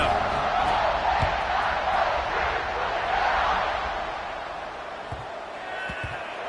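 A large college football stadium crowd roars steadily at kickoff of a Stanford at Ohio State game, a dense sustained wall of noise with some voices standing out and a slight fade toward the end.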